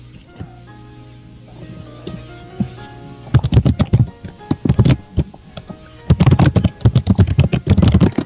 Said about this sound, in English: it's picking up my typing in the mic